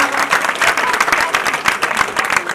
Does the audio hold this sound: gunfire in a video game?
no